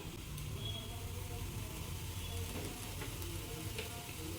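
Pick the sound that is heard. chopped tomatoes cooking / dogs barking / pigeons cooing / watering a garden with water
chopped tomatoes cooking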